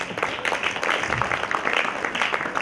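An audience claps together at a public gathering in Kurnool, a dense, steady patter of many hands that holds evenly at moderate loudness for a few seconds.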